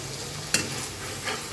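A ground mustard spice paste with salt and turmeric sautés in mustard oil for hilsa, giving a steady close sizzle with two brief scraping stirs and no talk.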